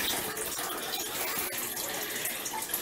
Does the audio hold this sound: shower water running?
yes